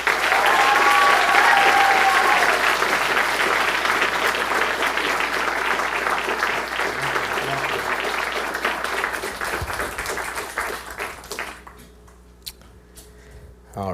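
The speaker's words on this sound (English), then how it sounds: "Please give a rockstar round of applause for Mahyad Tousi." Live audience applause welcoming a speaker at a CreativeMornings New York talk, a dense sustained clapping that fills the room for about eleven seconds, then thins out and fades to near quiet.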